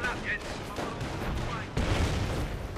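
Gunfire from sappers in a World War strategy video game, with muffled shots and booms rolling under battle ambience and a heavier burst near the end, moderately loud.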